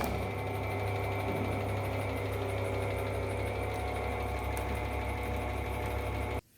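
A compression testing machine loads an aggregate sample in a crushing value test at 4 tons per minute up to 40 tons, giving a steady, loud mechanical hum and drone that runs continuously before cutting off abruptly at the end.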